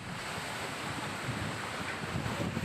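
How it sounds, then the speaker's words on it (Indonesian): Strong wind lashes a heavy rainstorm in Bekasi, West Java, as a steady, roaring broadband rush with low buffeting gusts throughout and no voices. "hujan lebat dengan angin kencang juga terjadi di wilayah kota Bekasi"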